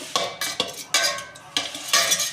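Stirring boiled eggs into masala in a wide vessel for egg biryani, with several scraping, clinking strokes of a utensil against the pot in an uneven rhythm, close and fairly loud with no talk.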